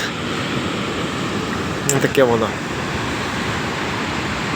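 Sea waves crash at a port in Peru, producing a continuous loud, washing roar of surf, briefly interrupted by a short spoken remark.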